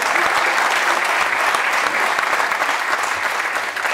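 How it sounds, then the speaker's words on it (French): Theatre audience applauding after a play, a dense, even wash of clapping from many hands that stays loud and steady throughout. "Vous pouvez les applaudir."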